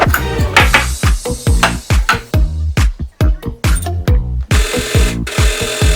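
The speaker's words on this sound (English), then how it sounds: "Now I need to set up my overlocker on rolled hem mode." An overlocker serger stitching a rolled hem on fabric, running in short rapid bursts with brief stops between, close and fairly loud, no talk.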